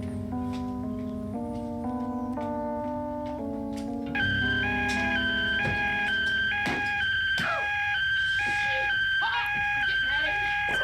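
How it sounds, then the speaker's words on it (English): A car alarm going off in the TV series Prisoner Cell Block H, a loud repeating electronic tone pattern that shifts pitch partway through and continues steadily. "Why didn't you warn her about the alarm, Joyce?"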